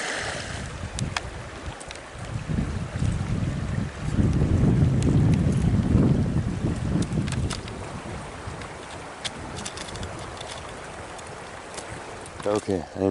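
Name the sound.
wind blowing on the microphone outdoors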